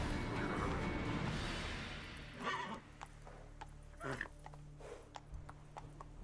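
Hoofbeats of Roach, Geralt's horse in The Witcher 3, galloping steadily, with a whinny and clattering hooves up close as the horse jumps, over faint game ambience.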